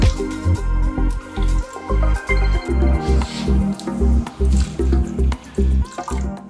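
Apple cider glugs from a bottle onto pork dressed with brown sugar for honey sriracha pulled pork, a close run of rhythmic wet splashes and gurgles.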